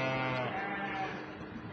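Sheep bleat in a dense, sustained chorus on a farm during vaccination for malignant edema and blackleg, wavering and overlapping at close to moderate distance.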